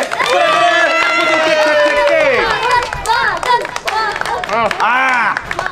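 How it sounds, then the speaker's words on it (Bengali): Children and adults at a cake-eating contest clap and cheer energetically, with excited voices shouting and chanting loudly over rapid handclaps. "হাততালি দাও উৎসাহ দাও হাততালি জোরে জোরে"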